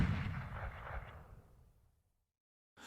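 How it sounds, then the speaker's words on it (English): Gunshots in a true-crime retelling, a burst of heavy, booming reports that decays into silence before another blast begins at the end. "Before dawn on July 22nd, the park's visitors were jolted awake by the sound of gunshots"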